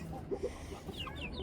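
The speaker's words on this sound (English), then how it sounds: "we can't forget this one Rhode Island Red rooster that was supposed to be a hen" A Rhode Island Red rooster in a mixed backyard flock gives a few short, low clucks close by, with higher bird calls sounding faintly later on.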